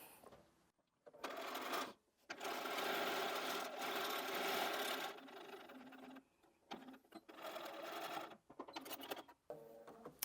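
A sewing machine stitches a quarter-inch seam in quick rattling bursts, running a few seconds at a time between short pauses, quiet and close.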